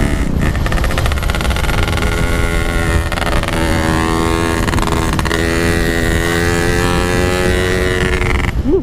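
A motorcycle rides along a road, its engine droning loud and steady throughout with rising and falling pitch as it changes speed, mixed with strong wind rush on the microphone.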